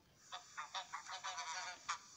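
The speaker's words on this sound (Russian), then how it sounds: "Гусь." A goose honks in a quick series of about ten nasal calls, fairly close and clear, with no other sounds around.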